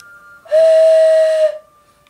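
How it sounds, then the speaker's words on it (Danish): A plainly made modern souvenir whistle sounds one loud, steady, pure tone for about a second, with a sharp start and a quick fade, then silence. "Det her, det er så en moderne souvenirfløjte."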